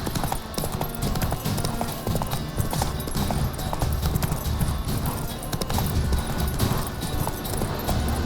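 Hooves of the horse Roach pound in a fast, steady gallop in The Witcher 3, a rhythmic clip-clop that stays close and loud throughout with no one talking.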